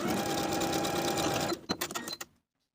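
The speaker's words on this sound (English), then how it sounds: "Right sides together, sew this seam at 1/2 inch and press the seam open." A sewing machine runs steadily for about a second and a half stitching a half-inch waistband seam on elastic-waist culottes, then breaks into a few short clicking bursts before stopping, close and alone.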